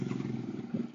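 Motorcycles boarding the Penang ferry give a steady, fairly loud low engine rumble with slight surges near the end, and no voices are heard.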